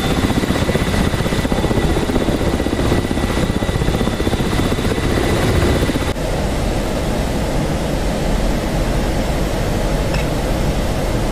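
A helicopter in the DCS World flight combat game roars steadily and loudly with a dense rotor and turbine drone. The sound stays unbroken, with no voices, and dips slightly once partway through.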